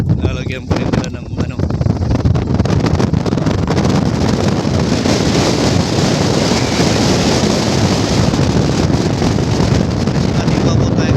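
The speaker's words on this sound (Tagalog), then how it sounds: "kaya medyo malakas ang hangin" Strong wind buffets the microphone in a constant loud roar in New Zealand, with a voice speaking faintly beneath the rumble.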